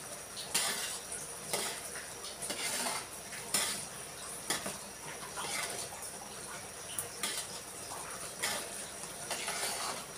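Biko sticky rice cake being stirred continuously in a pan, with repeated scraping and clinking of a utensil against the cookware at a steady rhythm, close and moderately loud with no talk.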